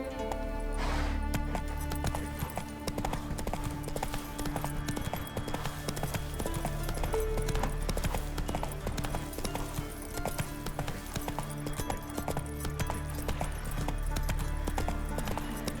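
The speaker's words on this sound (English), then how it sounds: "Whoa there, Roach." Horse hooves pound in a steady galloping clip-clop rhythm while riding through The Witcher 3, loud and continuous under a layer of game music and ambience.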